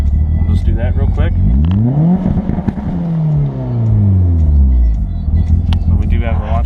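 A tuned 2005 Mitsubishi Evo with 1,200 PTE injectors and a new clutch revs hard against launch control set at 5,500 rpm, its engine climbing and falling in repeated loud, close sweeps with a talking voice over it.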